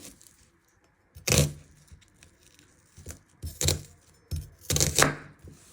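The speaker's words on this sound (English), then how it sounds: "you want to slice it all the way through into thin slices" A knife slices through a peeled onion on a board in a few separate, close strokes, each a crisp cut with a short scrape, spaced irregularly with quiet gaps between.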